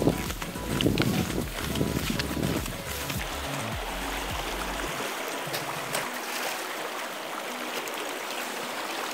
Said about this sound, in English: there's this little creek right behind me, just there, if you can see it, where like it joins into the river